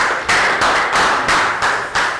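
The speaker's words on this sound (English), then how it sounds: "High five, round of applause." A few people clap in a quick, steady rhythm, about seven bursts spaced evenly, close and fairly loud.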